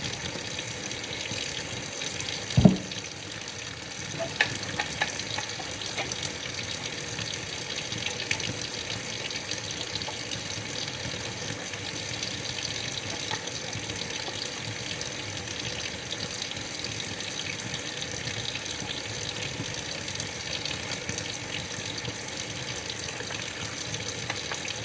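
Running tap water splashes steadily into a sink as plastic Xbox 360 console parts are washed, a continuous close hiss with a brief knock near the start and faint clatters, no talk.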